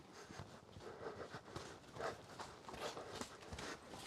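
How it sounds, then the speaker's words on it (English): Horse hooves clip-clopping at a steady walking rhythm during a ride, fairly close, with a continuous background of outdoor noise and no talk. "Horse riding."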